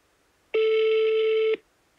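A single telephone ring as an outgoing call is placed to a radio reporter, one steady electronic burst about a second long, loud and close, with no talk over it.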